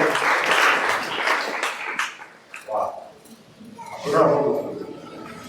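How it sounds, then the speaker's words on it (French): A church congregation applauds and cheers during an evening service, with bursts of clapping and raised voices that swell, dip, then rise again. "On acclame Jésus."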